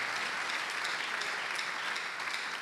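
Sustained applause from a church congregation during a Sunday service, a dense, steady wash of many hands clapping together with no voices coming through.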